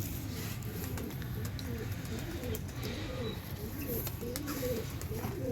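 Pure-bred pigeons coo steadily in a loft, a soft repeated throbbing call that runs continuously under a constant background hum.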